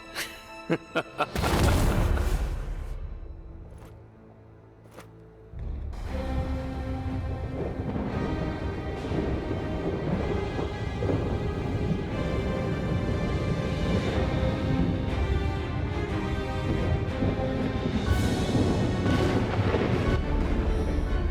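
In the video game Lost Ark, the Black Rain arrives with a huge booming thunder crash, a brief lull, then a steady, dense roar of heavy rain and rumbling storm that continues loudly throughout.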